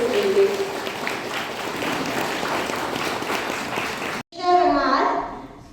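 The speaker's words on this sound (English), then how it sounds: "Please give a big round of applause for Miss Pynkup." An audience applauds in a loud, continuous wash of clapping that cuts off abruptly, followed by a brief burst of crowd voices and cheering.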